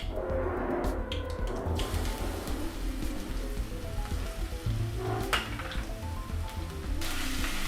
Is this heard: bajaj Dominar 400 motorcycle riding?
no